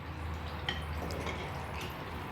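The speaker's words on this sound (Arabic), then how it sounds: "ضفت عليهم شويه ماء" A little water splashes into a pan of leftover spices from chicken frying, giving a faint, short liquid trickle and a few soft drips over a low steady background hum.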